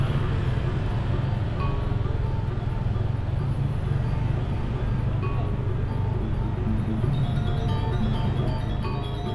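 Steady street ambience in Seminyak, Bali, at a busy spot with traffic jams: a constant low rumble of idling and passing engines, with faint scattered voices and a few distant tonal beeps over the din.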